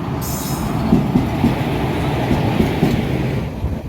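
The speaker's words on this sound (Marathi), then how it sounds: "आता ट्रेन मध्ये चढलो आम्ही" A train runs along the rails, heard from inside a general-class coach, with a steady loud rumble and some faint clacking and squeal over nearly four seconds and no talk.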